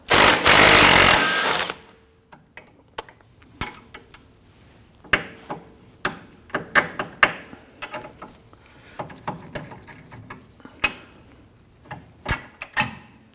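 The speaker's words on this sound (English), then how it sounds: "I'm going to go ahead and disconnect our sway bar end link using our 15mm wrench on the bolt side and a 16mm on the nut side" Wrench work on a sway bar end link of a 2005-2010 Chrysler 300 rear suspension, 15mm on the bolt and 16mm on the nut: a loud burst of whirring opens, then scattered sharp metallic clicks and ratchet-like ticks follow irregularly.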